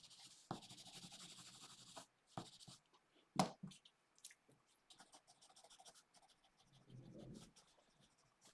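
A pencil scratches across paper while sketching a squirrel, close and quiet, with short strokes and rubbing bursts in an irregular rhythm and brief pauses between.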